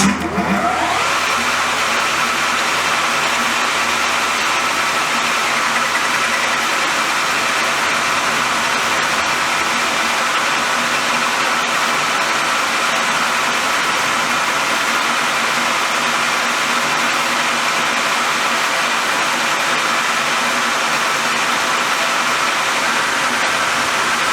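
A machine tool running continuously while taking a light skim cut, giving a loud, steady mechanical roar that starts abruptly and holds level throughout.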